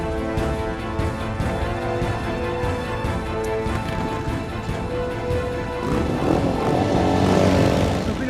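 A motorcycle engine runs steadily at close range with a deep, throaty rumble that rises in intensity toward the end, heard on its own without talk.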